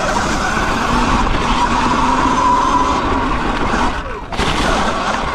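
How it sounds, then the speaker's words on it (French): A Surron electric dirt bike rides off-road, making a loud continuous whirring, rushing noise with gritty texture, then a brief dip near the end before it picks up again, with no talking. "Écoutez le bruit qu'elle fait contrairement à la Talaria"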